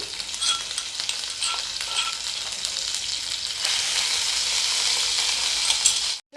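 Cumin, mustard seeds and ground masala fry in a pan for vada pav, crackling and sizzling steadily while a spoon stirs and scrapes, growing denser and louder midway before cutting off; no talking.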